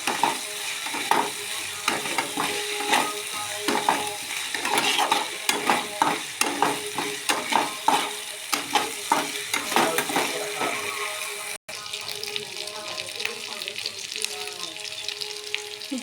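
Spice masala for a pointed gourd and prawn curry frying in a pan with sugar added, a steady close sizzle broken by repeated scraping stirs, then a brief pause and a quieter, even sizzle.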